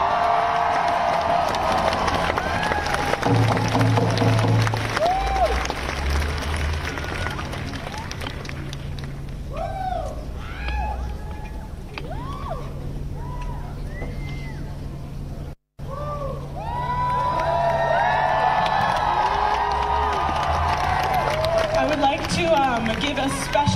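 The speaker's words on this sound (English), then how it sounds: "Give a special round of applause to our panelists." A crowd applauds and cheers to welcome youth climate strike panelists in Colorado, loud sustained clapping with whoops that briefly cuts out, then swells again, with voices mixed in.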